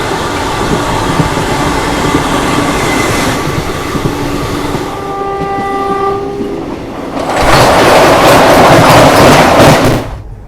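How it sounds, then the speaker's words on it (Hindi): India's fastest double-decker express train rumbles past with clattering wheels, its horn sounding in long sustained tones midway, then a louder rushing roar of passing coaches before it trails off, close and loud. "ये इंडिया की फास्टेस्ट डबल डेकर एक्सप्रेस है।"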